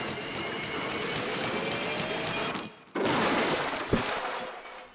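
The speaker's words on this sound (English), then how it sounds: "Nice explosion of green ink." Green ink bursts in Splatoon Hero Mode gameplay as a loud, dense crackling spray that cuts off briefly, then resumes with a sharp pop, all in a busy game mix.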